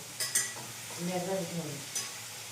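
Pieces of bhetki fish frying in a kadai, giving a steady close sizzle with a few sharp utensil scrapes and clinks near the start and end.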